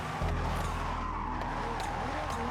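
A car drifting in the Forza Horizon racing game, with a steady engine drone and tire skid running loud and continuous throughout.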